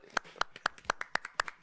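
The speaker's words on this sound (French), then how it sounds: "Nous applaudissons." A small audience at a French variety show claps slowly in unison, about eight sharp, evenly spaced claps in under two seconds, close and clear with no voices over them.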